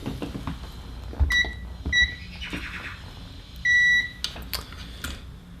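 A small multimeter's continuity test beeps several times amid light clicks and handling noise while wiring a status light into a Crybaby wah pedal, each tone short except one longer steady beep.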